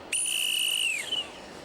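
A linesman's whistle gives a single shrill, steady blast about a second long. The pitch sags slightly as it ends, and it is heard alone and fairly close.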